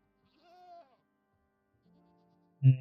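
A Minecraft goat gives a short nasal bleat, then silence, then a louder bleat right at the end, close by and alone.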